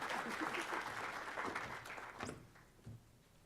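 An audience claps steadily for speakers being welcomed to a podium at a morning opening session, dense and moderately near, thinning out toward the end.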